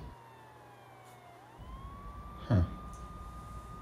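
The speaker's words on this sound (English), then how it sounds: "Sounds like sirens." A police siren sounds from a distance, a faint drawn-out tone that gradually falls and then rises and holds, while a low steady drone cuts out partway through and a person briefly exhales a short sound.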